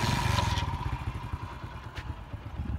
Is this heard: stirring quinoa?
no